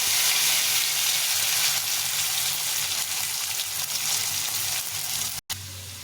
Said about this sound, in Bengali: এখন এই আলুগুলো ছেড়ে দেবো।